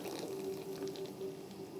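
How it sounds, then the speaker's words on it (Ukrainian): Boiling water pours steadily into a bowl holding an egg, with a soft, continuous splashing and a faint filling tone. "заливаємо окропом"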